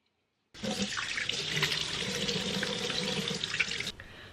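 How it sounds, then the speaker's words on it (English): A bathroom tap runs in a steady hissing stream into the sink during a face wash, starting abruptly after a moment of silence and cutting off sharply about three seconds later. "Alright, so I've just washed my face and it is sopping wet here"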